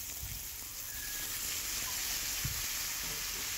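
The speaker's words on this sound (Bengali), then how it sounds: "চাল কুমড়োটাকে একটু বেশ ভাজা ভাজা করে নেবো" Chopped ash gourd frying in hot oil in a pan, giving a steady, moderate hiss and crackle throughout with a couple of faint soft knocks, no talking.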